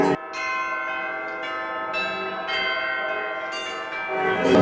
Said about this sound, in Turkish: şehrin her yerinde çan sesleri duymaya devam ediyoruz